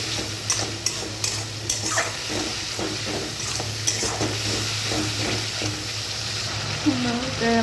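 Cumin and coriander spice paste with turmeric sizzles loudly in a pan for a fish curry, with steady frying hiss and the occasional scrape and stir of a spoon.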